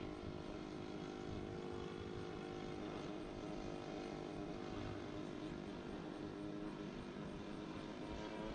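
A Seagull Models Nieuport 28 RC plane flies with its engine stuck without throttle control, a steady, fairly loud propeller drone holding an unchanging pitch throughout with no talk.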